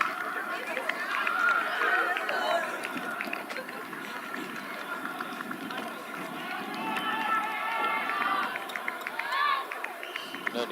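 Lively crowd of voices from a nearby tag rugby game beside a women's cricket match, a continuous murmur of shouting and chatter at moderate distance, with a commentator talking over it.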